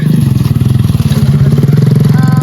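An old gasoline motorcycle idles with a steady, loud, low-pitched pulsing thump, close by, with a brief high whine near the end.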